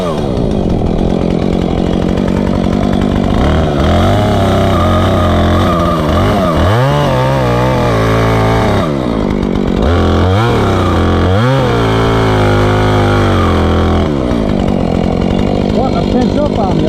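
A loud chainsaw cuts into a felled cherry tree in the woods, its engine revving up and dropping back repeatedly as the chain bites, with a voice heard over it.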